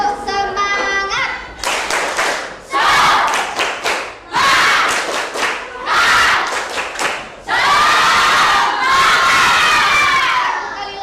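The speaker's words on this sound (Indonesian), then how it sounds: "Tepuk semangat." A school class performs the 'tepuk semangat' clapping chant, children shouting the rhythmic words in loud bursts with sharp group claps between phrases and short pauses.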